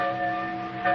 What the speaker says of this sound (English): The toll of the bell.